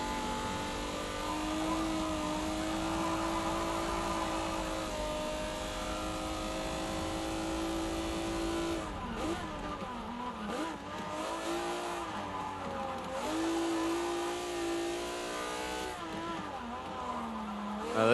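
1973 Nissan Skyline in the Forza 7 racing game on the Top Gear test track, its engine revving loudly and continuously with rising and falling pitch through gear changes, with bursts of tyre squeal and skidding through corners.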